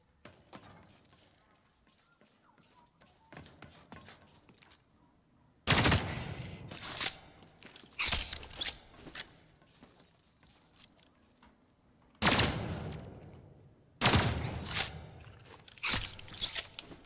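Bursts of gunfire from the shooter game The Cycle: Frontier, loud rapid volleys that come in separate clusters with quieter pauses between them, heard close.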